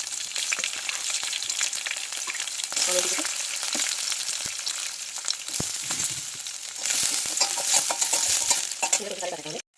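Tempering spices and green chillies sizzle and crackle in hot oil for a curry, a loud, dense frying hiss that surges as ingredients drop in, with scraping stirs and spoon clinks against the pan.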